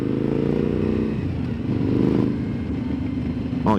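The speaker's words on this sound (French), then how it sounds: "Ah puis ce bicylindre il chante." A Suzuki V-Strom 1050 XT twin-cylinder motorcycle engine rumbles loud and close, holding a steady drone with a swell in revs midway, then a sharp rise at the end.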